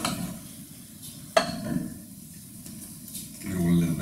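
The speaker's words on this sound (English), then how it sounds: "Give it all a little bit of a stir." About 300 grams of frozen king prawns are stirred into a sizzling seafood paella pan, with a soft hiss, a sharp metallic clink partway through and a low voice near the end.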